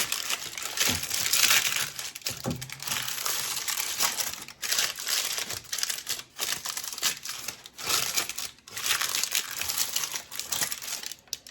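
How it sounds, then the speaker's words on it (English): Parchment paper is wadded and crumpled by hand before lining a brownie pan, giving loud, close crinkling and crushing bursts that come and go for several seconds with no talking. "And if you wad your parchment paper up first"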